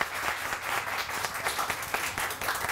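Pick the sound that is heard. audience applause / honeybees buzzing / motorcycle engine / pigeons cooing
audience applause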